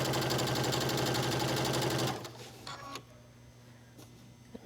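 A sewing machine stitches binding onto ruffle fabric for a one-shoulder tank top, a loud, rapid steady run that stops about halfway, leaving faint clicks and room noise.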